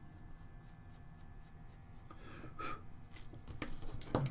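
A rubber eraser rubs across a pencil drawing of portrait clothing, a soft, close, continuous scrubbing that grows slightly busier toward the end.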